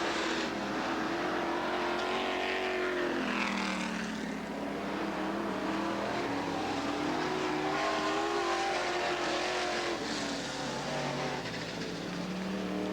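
Pro stock race cars circle the oval at Southern Oregon Speedway, engines droning loud and steady with pitch swells as cars pass and accelerate, a continuous dense roar with no speech.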